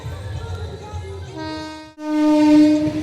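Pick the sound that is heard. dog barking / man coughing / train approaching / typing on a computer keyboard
train approaching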